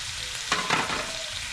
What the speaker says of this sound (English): the oil is preheat, so we're gonna go ahead and add our natural vegetable